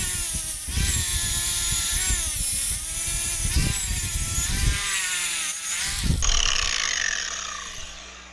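A power tool spins a wire brush against an axle data tag, a loud, harsh whirring grind that wavers in pitch as pressure changes, then cuts off near the end and winds down.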